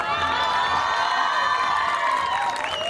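A crowd at a town pilgrimage festival cheers a music academy, shrill children's shouts and whoops ringing over a continuous loud roar of voices, with only light clapping mixed in.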